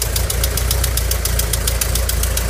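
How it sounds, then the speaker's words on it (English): A 1985 Volkswagen T25 Westfalia van engine idles loudly, a small exhaust leak making a fast, regular ticking clap throughout, sharp and close over a low rumbling drone. "Has a small exhaust leak, which is the clapping noise"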